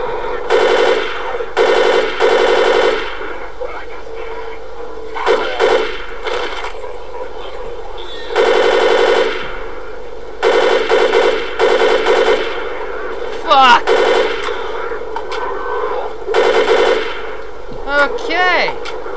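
Gunfire in the zombie shooter Left 4 Dead, with bursts of rapid automatic fire repeating in clusters through the clip over steady game ambience, loud and close.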